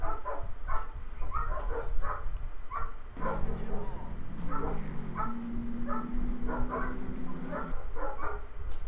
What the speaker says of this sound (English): And so the dogs are barking again.